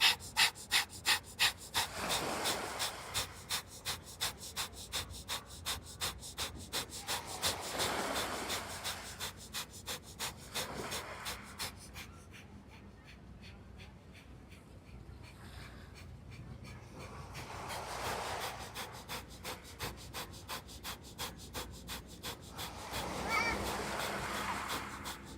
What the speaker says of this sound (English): begin with breath of fire.